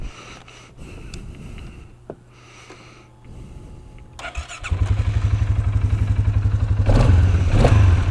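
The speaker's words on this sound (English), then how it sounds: "we've got the engine on now" An ATV engine cranks and sputters through a few tries, then catches and settles into a loud, close, steady idle with rapid rhythmic pulsing.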